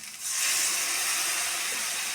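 Water poured onto Rajasthani spice masala frying in a pan for paneer curry bursts into a loud, steady steam hiss that fills the whole moment without any voices.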